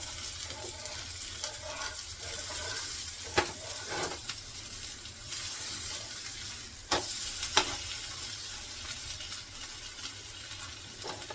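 Steady oil sizzling from surmai (kingfish) shallow-frying on a griddle, with a few sharp clinks and scrapes of a utensil partway through.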